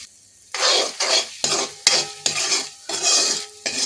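Four eggs fry in a pan with flour-thick upma mix, stirred in a run of distinct scraping, sizzling strokes about twice a second, loud and close.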